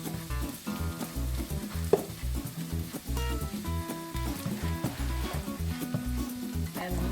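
Garlic sizzling in two tablespoons of oil in a wok over medium heat, a steady crackling fry under rhythmic music, with occasional stirring.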